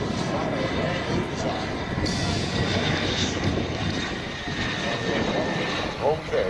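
Propeller aircraft flying a demonstration pass at the Florida Jets 2011 air show, a steady, loud engine drone throughout as it makes a turn, with a voice talking over it.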